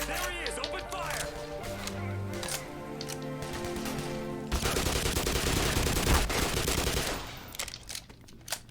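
Soldiers opening fire in the Black Mesa game, with rapid automatic gunfire crackling over music at first, then a loud sustained barrage of dense shots in the second half.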